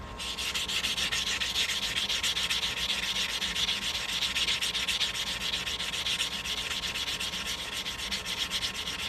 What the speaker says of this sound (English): I'm just sanding the cut edge real quick.